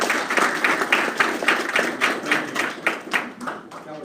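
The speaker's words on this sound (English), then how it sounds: "we owe you a big round of applause" Applause breaks out for a person at a budget meeting, a run of close, rhythmic clapping from a modest group with steady, even hand claps and no voices over it.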